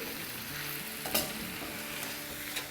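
Vegetables with sliced onion sautéing in a hot pan for a Chinese-style meal, a soft steady sizzle with a few scraping stirs of a spatula, close and fairly quiet.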